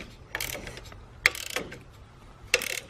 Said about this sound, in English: And tighten your bolts up.